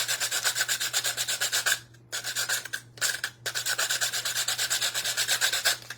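Sandpaper rubs back and forth along the edge of a reverse canvas in a Mod Podge craft project, making rapid steady rasping strokes, close and continuous, with two brief pauses before the sanding resumes.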